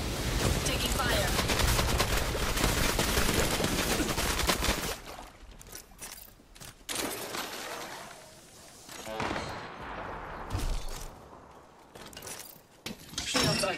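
Rapid game gunfire from a shooter match in an evac tower, a dense loud barrage for about five seconds, then scattered sharper shots and bursts with quieter gaps, some speech-like game sounds mixed in.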